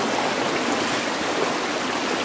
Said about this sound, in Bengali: আর পানির স্রোত এখানে আছে